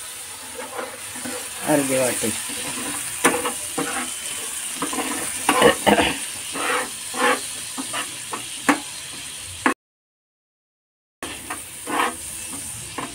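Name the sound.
spice paste sizzling in a pan after water is added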